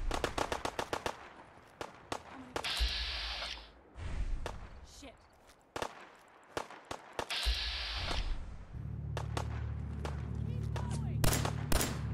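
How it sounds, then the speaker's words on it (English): Rapid bursts of automatic gunfire in the video game Fallout 4 crack loudly in sharp volleys, broken by heavier booms and a stretch of steady rumble. "Yeah, that sounds like gunfire."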